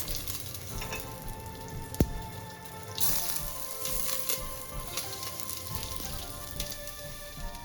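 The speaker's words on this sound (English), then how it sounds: "Now add cooking oil into a clean pot and then throw in your aromatics." Aromatics frying in cooking oil in a clean pot, a steady close sizzle with a sharp spitting crackle and a louder burst partway through, no voices.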